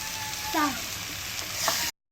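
Ground chili paste for Schezwan chicken fried rice hits a hot pan, giving a brief, steady close-up sizzle with a faint scrape of stirring before it cuts off abruptly.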